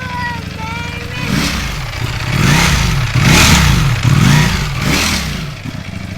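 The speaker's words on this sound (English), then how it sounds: "I'll give it a few revs for you." A nearby 2021 Ducati Panigale V4 engine revs several times in succession, each throttle blip rising and falling over a low idle.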